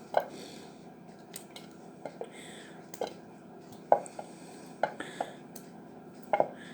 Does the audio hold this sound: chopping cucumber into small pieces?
yes